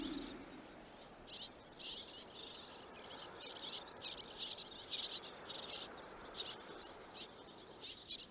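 Small swallows harrying seagulls over the Ria Formosa lagoon, a burst of repeated high, shrill bird calls in short clustered bursts over a steady outdoor background hiss.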